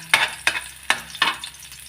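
Garlic frying in a pan for chop suey with bamboo shoots, four loud scraping stirs in an even rhythm over a steady low sizzle.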